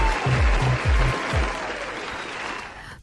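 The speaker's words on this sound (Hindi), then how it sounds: "उन लोगों के लिए ताली जरूर बजा सकते हैं जिन्होंने सही जवाब दिया है" Applause for listeners who answered correctly, a broad wash of clapping under a few low thumping beats near the start, then fading a little as it continues.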